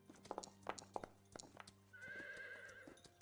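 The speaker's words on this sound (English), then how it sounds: "I love the horse sound" A horse sound effect with rhythmic clip-clop hooves up close, followed by a clear, drawn-out neigh near the end.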